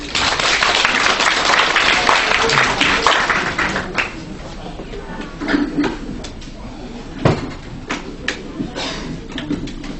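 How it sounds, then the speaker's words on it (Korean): An audience applauds to welcome a speaker to a tarot card talk, with dense clapping for about four seconds that thins to scattered claps and small room noises. "뜨거운 박수 부탁드립니다"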